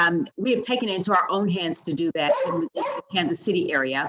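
A pet dog barks sporadically in the background at home while someone speaks continuously over it.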